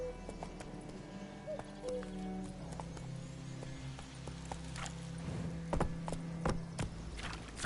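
Roach, the horse in The Witcher 3, gallops with rapid rhythmic hoof clip-clops over a low rumbling background, the hoofbeats growing sharper and denser toward the end.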